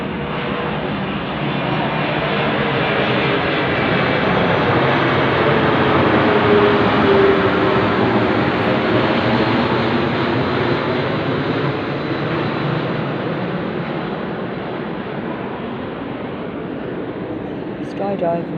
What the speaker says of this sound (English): the planes are over my head